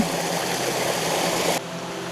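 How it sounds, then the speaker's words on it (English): A bigger waterfall coming down from a stream on the Karshi Gudda hill trek gives a steady, broad rushing hiss, fairly near and continuous, before it drops off suddenly at the end. "So that's the waterfall, a bigger waterfall which comes down from that stream."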